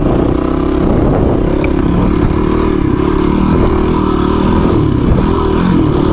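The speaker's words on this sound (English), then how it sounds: "On them DRZ 400s. Look at them boys go." Suzuki DRZ 400 dirt bikes ride past on a trail, their engines a loud, steady roar that continues for several seconds with no talk over it.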